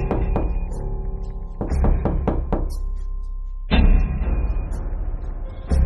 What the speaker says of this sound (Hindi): इसके बाद बुल्ली पीटर के घर का दरवाजा खटखटाता है।